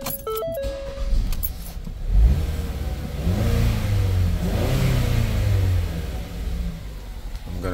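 A 2017 Ford Escape with a stalling fault starts after a few warning chimes, and its engine cranks, catches and runs with a close, steady mid-pitched drone that rises and falls slightly.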